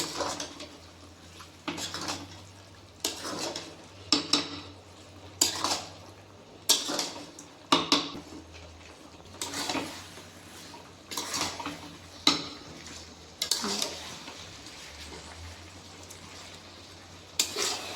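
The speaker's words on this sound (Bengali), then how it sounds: "এবার আমি আবার এটাকে কষবো।" Chicken curry with spices being stirred and sautéed in a pot over a charcoal fire, a spoon scraping and knocking against the pot in repeated bursts over a soft background hiss.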